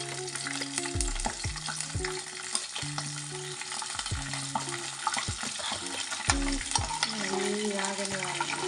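Tempering seeds sizzle steadily in hot oil in a pan, with the constant crackling frying broken by repeated close scrapes and knocks of a spoon stirring, and no talking.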